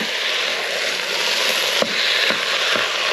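Minced meat sizzles as it fries in the sauté mode of a Cosori 5.7-litre pressure cooker, a loud steady hiss broken by a few sharp stirring knocks near the end.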